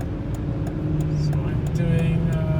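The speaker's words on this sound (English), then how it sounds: "I'm accelerating right now because of the traffic" A Volvo XC90 V8 accelerating in traffic, a steady engine drone with a low tonal hum under broadband road noise, continuous and fairly loud from inside the cabin.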